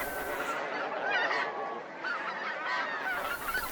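Bean geese honking in Japan, a continuous overlapping chorus of nasal honks from a flock at moderate distance.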